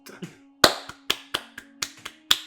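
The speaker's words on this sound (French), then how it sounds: "Les gens applaudissent." A small group of people claps in sparse, sharp, separate strikes rather than a full ovation, set over a steady low hum with a few faint sounds at the start.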